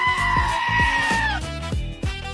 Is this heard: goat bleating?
yes